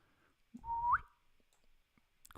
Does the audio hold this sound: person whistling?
yes